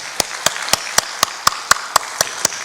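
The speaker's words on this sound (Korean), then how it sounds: "우리 신실하신 하나님께 영광의 박수 올려드리겠습니다" A church congregation claps in a steady, even rhythm of about four beats per second, sharp hand-claps over a soft crowd wash at close range, for the whole short stretch without talking.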